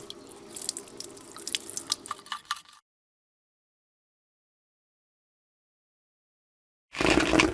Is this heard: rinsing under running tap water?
yes